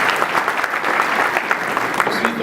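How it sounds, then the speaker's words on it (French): An audience at an international forum on medicinal and aromatic plants claps steadily, a dense, loud wash of applause filling the room with no break. "Vos applaudissements, s'il vous plaît."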